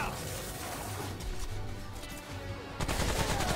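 Assault rifle gunfire in the video game Subject 2923, rapid bursts of automatic shots with crashes and impacts, fairly quiet and continuous, with a voice talking underneath.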